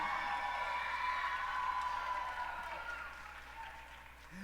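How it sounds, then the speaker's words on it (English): Audience at a Fiesta de la Simcha music concert clapping as conservatory students come onto the stage, a faint, distant wash of applause that slowly tapers off. "You can clap for them"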